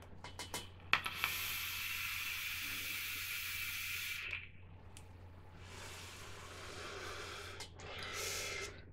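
Air drawn hard through a Coilart Dpro Mini RDA vape with some airflow holes closed: close breathy hissing draws lasting a few seconds each, with soft airy rushes and small clicks between, quiet and without talk.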